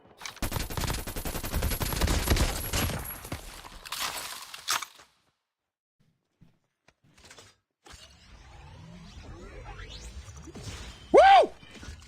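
A Krig 6 rifle in Call of Duty Mobile fires a dense automatic burst for several seconds, then drops to near silence. Scattered game effects, sweeping tones and a sharp loud burst near the end follow.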